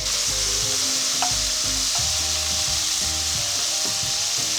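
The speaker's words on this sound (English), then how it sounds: "We're going to saute this for a while." Chopped garlic sautéing in a pan, a loud constant sizzle up close with occasional light stirring scrapes and taps, no voices.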